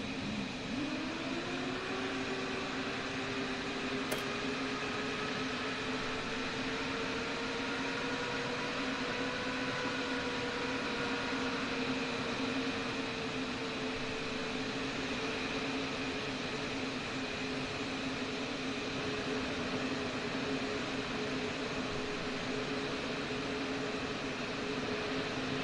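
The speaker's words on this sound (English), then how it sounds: "Start engine number 2." An F-15E engine spins up in a flight simulator game, with a rising turbine whine that climbs and levels into a steady high-pitched drone over constant jet roar for a long stretch.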